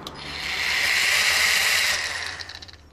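A wrench tightens a brush fitting on an A1000 Liquid Élément machine, making a close, continuous grinding whir for about two seconds that fades into a few uneven clicks.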